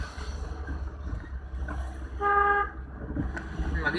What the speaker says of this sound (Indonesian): Dari atas sini ada orang klakson.